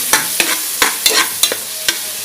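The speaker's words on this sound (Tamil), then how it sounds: "ஆனியனும் தக்காளியும் போட்டதுக்கு அப்புறம் இஞ்சி பூண்டு பேஸ்ட் போட்டு அது வாசனை போற வரைக்கும் வணக்கலாம்" Ginger-garlic paste sautéing with onion and tomato in a pan for mushroom biryani, heard as a steady close sizzle broken by about eight sharp scraping stirs of a spoon, with no talking.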